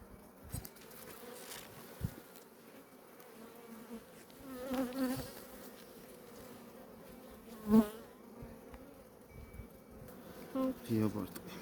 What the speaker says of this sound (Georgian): რაღაცნაირი ფუტკრები არიან ძალიან დიდასკანა